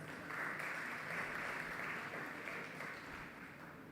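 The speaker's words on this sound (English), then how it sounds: "Ladies and gentlemen, a round of applause for our partners." Sustained audience applause at a banking awards ceremony, a dense, even patter of many hands from a seated crowd, fairly faint and distant, with no voices over it.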